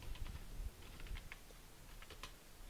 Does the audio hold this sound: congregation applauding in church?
no